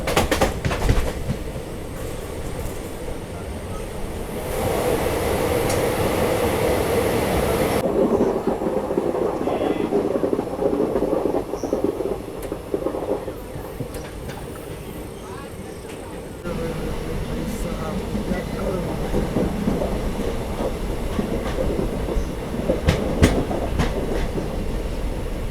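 Tinsukia Bangalore Express running through the Barak Valley and into its first tunnel during the monsoon: a loud, continuous train rumble with wheel clatter, whose tone shifts and swells as the train enters the tunnel and later changes again.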